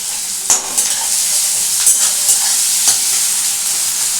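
A banana flower kofta curry base stir-fries in a pan, with a loud, close sizzle and occasional scrapes of a utensil against the pan, and no voices.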